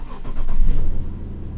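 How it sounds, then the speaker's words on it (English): A car engine is started with the key in the ignition: a short cranking burst that catches and settles into a steady low idle, close and fairly loud, no talking. "put the key in the ignition and start the car up"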